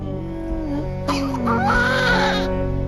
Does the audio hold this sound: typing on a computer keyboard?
no